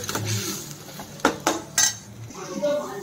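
Metal utensil scraping and clinking against a cooking pan while a Telugu tempering is stirred, a few sharp knocks in the middle amid quiet kitchen background and faint talk.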